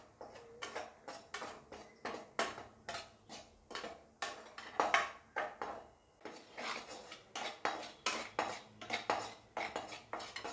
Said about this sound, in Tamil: இந்த ராகி மாவை வறுத்து எடுத்துக்கலாம்